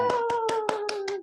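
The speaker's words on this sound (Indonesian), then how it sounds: "Tepuk tangan dulu untuk kelompok 2." A class claps together for a student group after a religious education lesson, six evenly spaced sharp claps over a steady sustained tone, fairly close and clear with no talking.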